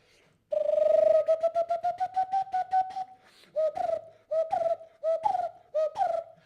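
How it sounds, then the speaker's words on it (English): A lineated barbet calls alone, close and clear: a fast run of repeated hollow notes, then a short pause and a slower series of rising, emphatic notes. "I'll go with the lineated barbet."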